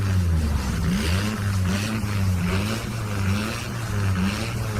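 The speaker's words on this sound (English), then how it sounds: "Just listen to that engine purr." A car engine hums steadily and loudly at close range, a low, even rumble that holds throughout without fading away.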